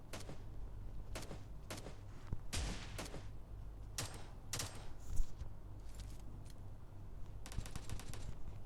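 Gunfire in the mobile battle-royale game BGMI, heard as several separate sharp bursts and short rapid volleys spread across the stretch, moderately loud over a steady low background hum, with no talking.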